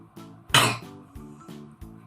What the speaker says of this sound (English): Sorry, I told you I have little cough.